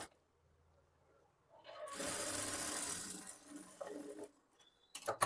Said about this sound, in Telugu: ఇక్కడ నుంచి ఇలా స్టిచ్ చేసుకోవాలి ఒక పావు ఇంచు మార్జిన్ ఉండేలాగా చూసుకుంటూ స్టిచ్ చేసుకోవాలి